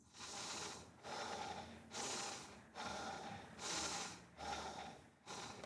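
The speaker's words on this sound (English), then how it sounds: "Try to keep breathing through the nose and not through the mouth." Fast, forceful breathing through the nose during a Katonah Yoga pranayama breathwork class: loud, rhythmic huffs repeat steadily at about one per second, close to the microphone, with no talking.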